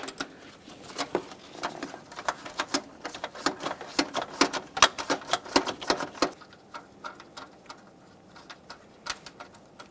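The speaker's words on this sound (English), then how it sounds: "For this, I'm going to be using a 10mm ratcheting wrench." A 10mm ratcheting wrench turns a mounting nut on the power steering pump bracket of a 2009-2014 Nissan Maxima 3.5L V6, giving rapid, fairly close clicking bursts that thin out toward the end.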